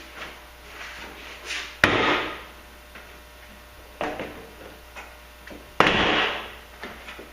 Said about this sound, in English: Just give this a little pry job and see what happens here